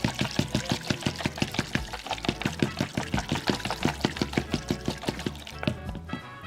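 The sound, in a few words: whisking extra virgin olive oil into lemon juice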